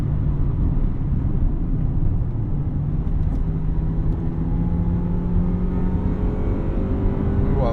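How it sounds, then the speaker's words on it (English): A 1999 Honda Civic Si with its VTEC engine revving while driving, a loud steady engine drone with rising pitch against road rumble, close and continuous. "I love the sound of the VTEC in this."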